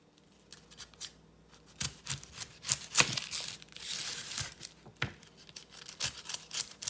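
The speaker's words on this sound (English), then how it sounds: "So now let's cut up and dice our onion." A knife cuts and dices a white onion on a board, with irregular close crisp chops and slices scattered across several seconds, no talking.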